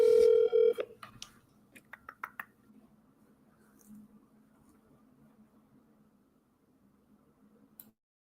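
A telephone places a call, giving a quick run of dialing tones and clicks in the first seconds. A faint low hum and scattered soft ticks follow as the line waits.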